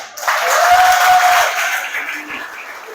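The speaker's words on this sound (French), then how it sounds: "je pense que vous pouvez l'applaudir" An audience in a hall at a political meeting claps for the mayor, a soft, fairly even burst of applause that swells in and then gradually thins, with a faint tone and a few low thumps underneath.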